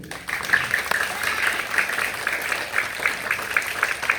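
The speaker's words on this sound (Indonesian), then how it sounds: "Tepuk tangan buat Bapak Ibu Guru." Applause from students and staff at an elementary school Teachers' Day ceremony, honoring the teachers; moderate, uneven clapping from a crowd, somewhat distant and outdoors-sounding, continuing throughout.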